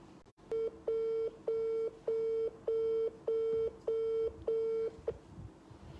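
Telephone tones while a call is being placed: eight evenly spaced, steady beeps of equal length in a regular rhythm, clear and close on the line, with faint background noise and no talking.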